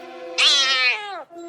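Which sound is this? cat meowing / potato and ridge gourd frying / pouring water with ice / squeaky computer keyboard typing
cat meowing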